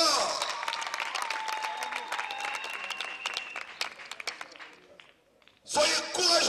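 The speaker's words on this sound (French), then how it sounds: "Acclamez très fort." A group of children claps at a youth outing, bursting into loud, rapid applause that fades out, followed by a brief fresh burst of noise at the end.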